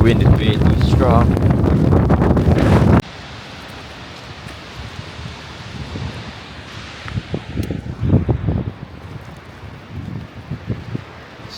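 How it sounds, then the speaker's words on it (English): Strong gusting wind buffets the area near Gullfoss waterfall in Iceland, loud and blustery at first, then a rougher, fluctuating rush with some faint voices. "The wind is way too strong."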